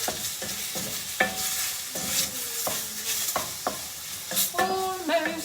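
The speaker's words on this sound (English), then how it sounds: "we're just going to dissolve that chicken stock whilst we are frying that off" Chicken fries in a pot while chicken stock is stirred in, giving a continuous loud sizzle broken by repeated scraping strokes of a utensil against the pan, with no one talking.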